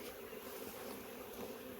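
Honey bees buzz on a brood frame from a hive with a failing queen, a faint, steady hum close by that holds level throughout without talk.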